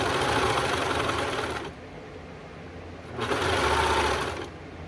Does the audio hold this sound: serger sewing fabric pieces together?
yes